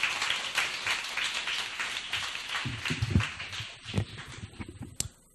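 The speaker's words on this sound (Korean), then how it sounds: "큰 박수 부탁드립니다" Broad, steady applause from an audience at a youth talk concert, a dense wash of clapping that thins out toward the end into a few louder individual claps.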